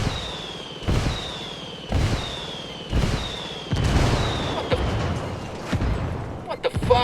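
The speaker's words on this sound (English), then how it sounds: "I called the rebels for some indirect fire." Rebel-called indirect artillery strikes in the open-world shooter Ghost Recon Wildlands land as a steady series of loud booming explosions, about one per second, each with a sharp crack and rolling tail over a low background rumble.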